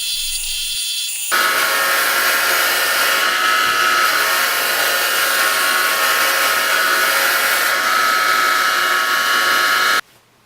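Triple bench grinder in a workshop running loud and steady with a high whine, cutting in abruptly after a short quieter stretch and stopping sharply near the end.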